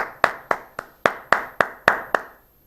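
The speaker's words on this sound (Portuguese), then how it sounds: "bate palmas esfuziantes a Cristina" Eight or nine sharp, evenly spaced hand claps ring out at a steady rhythm, close and crisp with short decays and no talk, applause for the singer Cristina after a song.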